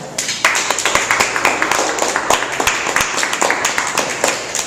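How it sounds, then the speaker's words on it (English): An audience at a Toastmasters club meeting in Metro Manila claps after a speech, giving dense, steady applause with many overlapping hand claps throughout. "So let's continue another round of applause for Jem"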